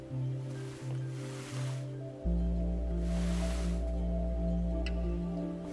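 Water flows in the puzzle game The Gardens Between, a soft steady rushing and gurgling wash laid over a low droning musical background, with no voices.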